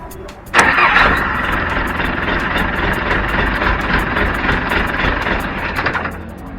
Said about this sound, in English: expecting that we can just turn the key and the Jeep will start right up